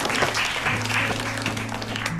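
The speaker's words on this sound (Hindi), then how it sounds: "तालियां बजा दो।" Classroom students clap together in a steady, dense patter that fills the scene, with a low sustained tone running underneath throughout.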